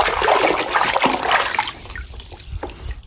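Water splashes and pours as a toy vehicle is rinsed, a steady wash that runs loud for a moment and then thins into softer trickling and drips, close by and without speech.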